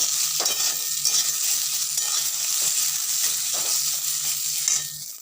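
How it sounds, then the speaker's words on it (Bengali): Potatoes fry in a pan for a bhindi aloo sabzi, a continuous close sizzle with repeated scraping stir strokes and a low steady hum beneath. "বন্ধুরা আমাদের আলু ভাজা ভাজা হয়ে গেছে"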